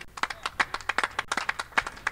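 Audience applause at a sailing race harbor finish, steady dense clapping from a nearby crowd with sharp individual claps standing out throughout.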